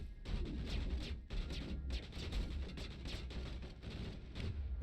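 Enemy gunfire in the sci-fi shooter Mass Effect, dense rattling bursts of weapon fire with heavy low thumps, continuous and loud with brief gaps.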